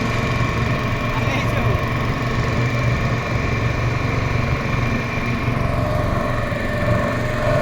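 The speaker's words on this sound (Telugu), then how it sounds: "పడవ స్పీడ్ పెట్టినాను స్పీడ్ వెళ్తూ ఉన్నది" A motor boat engine runs at speed on a stream during a fishing trip, a loud, constant droning hum with steady vibration and wind rush, close and unbroken from start to finish, with no talk heard.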